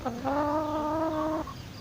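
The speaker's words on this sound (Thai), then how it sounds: "ไอ้เจ้าไก่มันก็จะมา คุยเขี่ยหา มดหาแมลงอะไรของเขานะครับ" A chicken pecking and scratching for ants and insects in a coop gives one drawn-out, close clucking call, clear against quiet background.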